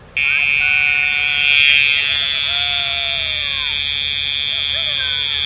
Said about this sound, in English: we're only really using the pager with this dog right at this point